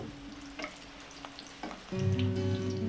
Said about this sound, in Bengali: পিঠ উল্টে গোল্ডেন কালার করে ভেজে নেব